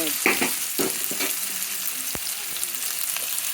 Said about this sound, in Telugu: ముందుగా ఉల్లిపాయలు పచ్చిమిరపకాయలు వేసి వేయించుకొని ఇది అల్లం వెల్లుల్లి పేస్ట్ వేసి పచ్చివాసన వరకు వేయించుకోవాలండి